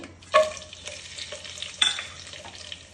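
Whole bay leaf, white cardamom and cinnamon dropped into hot ghee for polao, producing a soft frying hiss broken by two sharper pops and clinks of stirring, with no talk.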